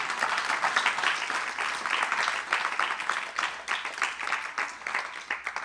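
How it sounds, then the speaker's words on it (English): An audience at an ISKCON Seattle talk breaks into dense, sustained clapping that swells and ebbs slightly for several seconds, with no voices over it. "You're clapping."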